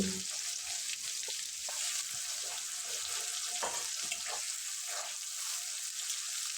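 Chopped onions and whole cumin frying in a pan for mutton curry, a steady bright sizzle close by with occasional stirring clatters and scrapes.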